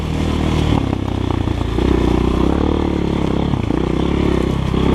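A GEON X-Road 250 PRO motorcycle rides along continuously with a steady, loud engine drone, loose clattering and scraping over the rough ground, and the revs rise and fall slightly throughout.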